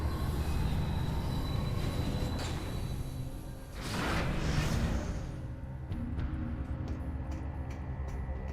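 A train in a Metroid video game rumbles along steadily with wheels grinding and squealing, swelling in a whooshing pass midway, the sound loud and continuous.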